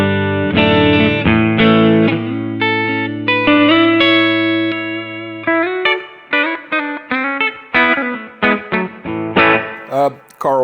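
Clean electric guitar, a Carl long-bottom body with Sun Bear and Firebird pickups into a Tube Rock Classic Reverb amp, rings out with sustained chords, then plays shorter plucked notes and chords with clear attacks and a reverb tail.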